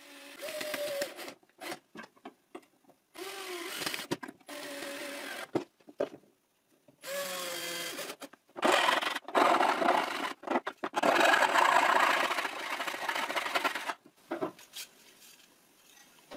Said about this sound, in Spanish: Ahora atornillo este ángulo metálico a la pieza que no tiene listones.